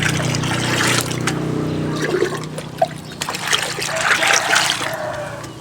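Mixed nutrient water for hydroponic lettuce is stirred by hand in a container, giving close, continuous trickling and sloshing with small splashes throughout.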